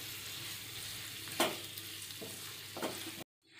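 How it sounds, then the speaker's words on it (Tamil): Marinated chicken stirred in a frying pan, a continuous sizzle broken by a few spoon scrapes, then abrupt silence near the end. "சிக்கனை போட்டு நல்லா மிக்ஸ் பண்ணி விட்டுருங்க."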